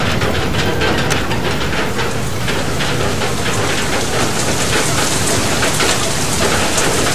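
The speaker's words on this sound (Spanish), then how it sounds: "Uy, que viene la tormenta." Heavy rain pours steadily during a storm in the video game Far Lone Sails, with distant thunder rumbling beneath a dense, loud wash of drops that lasts throughout.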